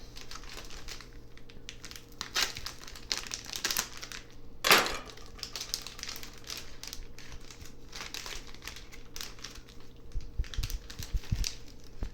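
A seaweed package for sushi is cut open and handled, producing continuous close crinkling and rustling of plastic with one sharp louder crackle midway and some light tapping.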